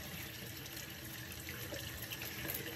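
Tap water runs steadily into a bathroom sink while a face is wetted for a morning skincare routine, a continuous close hiss and splash with no talking.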